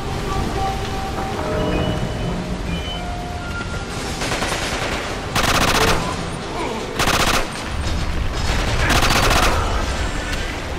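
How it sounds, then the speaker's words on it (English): Mantis machine pistol in the Quantum of Solace video game firing several loud full-auto bursts over a constant bed of game ambience and rain-like noise. "We pick up another new gun, the Mantis. And this is another machine pistol,"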